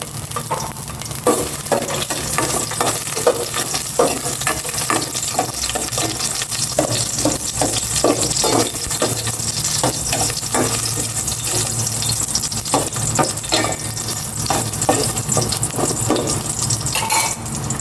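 Garlic sizzling and frying in cooking oil in a pan for pork sinigang, a steady close crackle with frequent stirring scrapes and clinks throughout, no voices.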